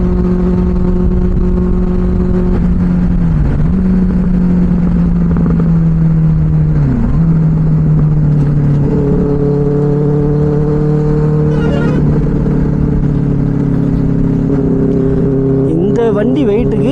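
A Benelli 600i superbike's engine and exhaust drone steadily while riding, with a few brief dips and rising revs, close and loud, under a voice talking.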